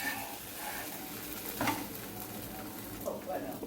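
Bread omelette frying in a pan gives a soft, steady sizzle throughout, with a few light scrapes and clinks of a utensil against the pan, fairly quiet and with no talking.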